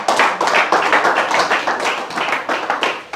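A church congregation claps together in a dense, steady burst of many hands, loud and close, with the clapping forming a rough, fairly rhythmic patter throughout and no speech over it.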